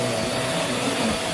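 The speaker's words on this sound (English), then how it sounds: "it's brilliant suction." A Vax Mach Air upright vacuum cleaner runs on carpet, a loud steady close-up whooshing roar with constant suction hum and no talking.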